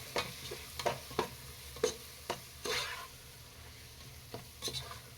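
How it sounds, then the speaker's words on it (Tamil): Masala sautéed for Dindigul-style seeraga samba biryani, heard as a soft sizzle under a string of separate spoon scrapes and taps against the pan, spaced unevenly and fairly quiet. "இது மாதிரி நல்லா வதக்கிக்கோங்க."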